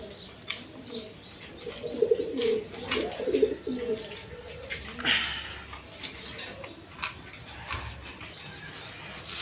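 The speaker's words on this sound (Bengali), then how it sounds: "এক পেয়ার জিরা গলা কবুতর আছে, হাই ফ্লাইং গিরিবাস কবুতর" Jira-neck high-flying Giribaz pigeons coo in soft, repeated low calls close by, with a few chirps and a brief flutter of wings, while a voice talks faintly in the background.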